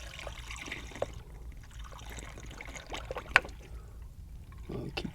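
Coolant trickles and pours into the radiator of a Dodge Ram with a 6.7L Cummins during a thermostat replacement, faint, irregular liquid splashing with a few small clinks, close by and without talk.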